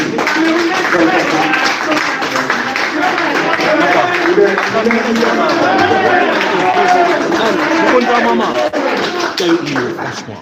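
An audience at a press conference claps steadily for about ten seconds, a dense spread of hand claps from a crowd with some voices mixed in.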